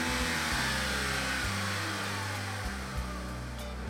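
A car engine revs close by in loud stepped pulls that rise and fall in pitch, with a low, throaty rumble between them.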